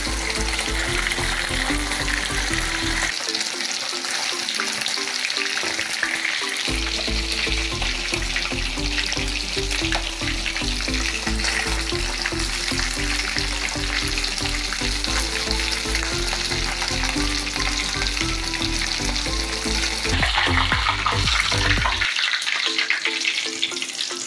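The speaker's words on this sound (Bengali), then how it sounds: "দেখুন বন্ধুরা ইলিশ মাছ ভালো হচ্ছে।" Hilsa fish, rubbed with salt and turmeric, frying in hot oil in a home kitchen: a continuous close crackling sizzle, with no talk over it.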